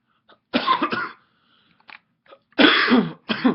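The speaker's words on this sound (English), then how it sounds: "My cough is back" A person coughs several times: a close double burst, a couple of small throat sounds, then two more harsh coughs, with no talk.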